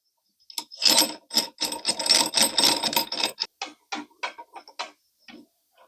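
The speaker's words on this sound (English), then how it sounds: "And then we put this nut on." Plastic slip nut being handled and threaded onto a kitchen sink drain fitting during a sink replacement, giving a quick run of scraping, rubbing clicks and ratchety turns, close and fairly loud, with no talk.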